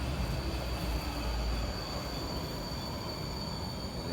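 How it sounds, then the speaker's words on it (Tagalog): A train rumbles past in the rain, steadily, with a constant roar of wheels on rails and a faint high squeal, continuous throughout. "Parating na tren."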